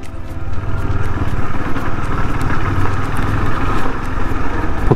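Motorcycle engine running steadily and loud at close range, with a constant mid-pitched drone and clatter throughout, riding into a crowded village temple area in the Konkan on a festival day.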